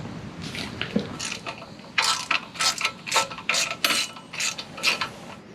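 Ratchet wrench turning a 10 mm skid plate bolt on a Honda CB500X motorcycle, a quick series of sharp clicking strokes, close and fairly soft, with a few scattered clicks at the start.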